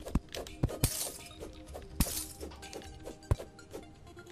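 Ice blocks shatter in the video game Terraria, several sharp glassy crashes and clinks scattered over a few seconds, each a bright, brittle burst fading into faint tinkling.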